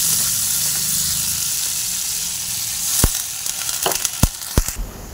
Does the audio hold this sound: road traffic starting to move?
no